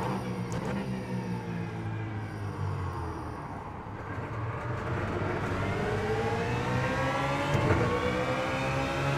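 A BMW Z4 GT3 race car engine in the iRacing sim at Circuit of the Americas revs up through the gears with rising and falling harmonic whine, steady and continuous, with a sharp crackle near the end and no talk.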